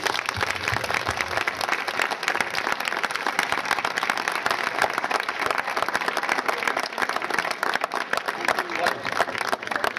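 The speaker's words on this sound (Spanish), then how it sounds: "Yo lo primero que quiero pedir a todos es un aplauso a favor de todos los detenidos en todas las luchas contra este sistema." A crowd at an outdoor miners' solidarity gathering in Ciñera, León applauds for the detained: sustained, dense clapping from many people at a steady level throughout, with voices mixed into the noise.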